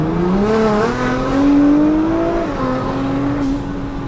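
A Nissan GT-R accelerates and slides, its engine note rising and falling in a loud, sustained drone that climbs in pitch, with no talking over it.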